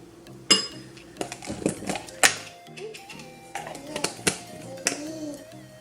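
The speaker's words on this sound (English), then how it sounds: "so I'm just gonna stir it around." A utensil clinks and taps against a dish while stirring mayonnaise, a series of sharp scrapes and knocks close up, with a voice speaking alongside.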